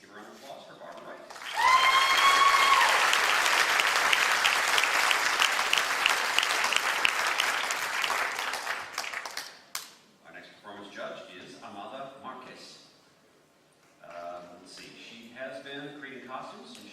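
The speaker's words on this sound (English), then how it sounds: "Let's give a round of applause for Barbara Wright." Audience applause for a masquerade director at a fan convention costume contest, a dense, loud burst of clapping with a few whistles that holds for about eight seconds, then fades as a presenter speaks.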